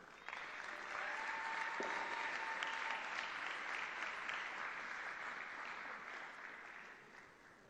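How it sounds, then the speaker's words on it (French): Audience applause at a scholarship award ceremony honoring students, a steady wash of clapping that builds within the first second, holds evenly, then tapers away, moderately distant. "Sous vos applaudissements"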